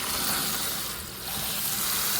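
Water from a small 2.3 gallon fish tank being poured out over rinsed sand, a close continuous gushing splash that dips briefly midway and then resumes.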